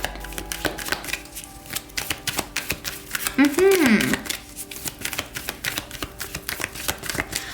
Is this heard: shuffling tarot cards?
yes